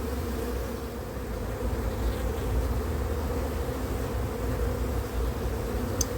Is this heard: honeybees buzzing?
yes